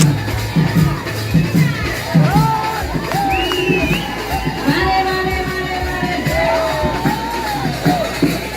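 A large crowd at a public event cheers and whoops for Lok Sabha Speaker Om Birla, loud yells and shouting voices rising and overlapping, with a few claps near the start and chatter mixed in.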